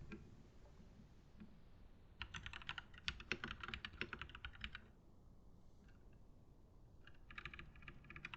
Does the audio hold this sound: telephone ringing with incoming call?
no